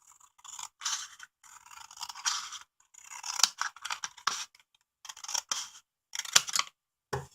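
Scissors cutting through bent book cover board in short, separate snips and scrapes, close and fairly quiet, with brief silences between cuts.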